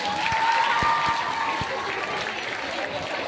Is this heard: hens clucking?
no